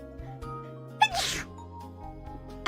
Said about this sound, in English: I sneezed finally.